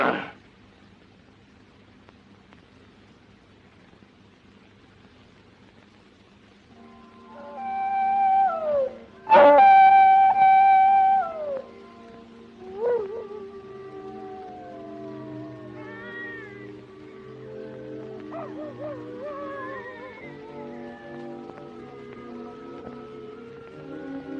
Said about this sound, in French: Ces appels de coyotes, moi, ça me porte sur les nerfs.